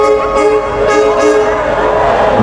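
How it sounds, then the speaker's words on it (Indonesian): A train rumbles past close and loud, its wheels and cars making a continuous heavy roar with a steady tonal hum throughout. "kita tunggu sebentar kereta api ini lewat"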